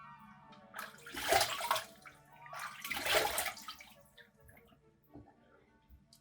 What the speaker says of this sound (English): So let me get a rinse going.